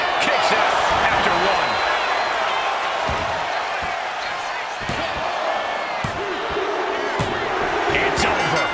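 Arena crowd roaring and cheering during a WWE 2K25 wrestling match, a steady dense wall of noise throughout with occasional thuds of impacts and a commentator's voice over it.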